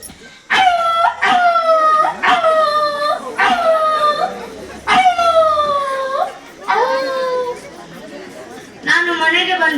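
A voice imitates a dog yelping after being bitten by another dog, giving a series of loud, close, falling howling yelps, each about a second long, with short gaps between them.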